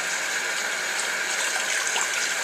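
Tap water runs steadily while shampoo is rinsed out of a makeup brush, a continuous close hiss and gush of flow with no speech.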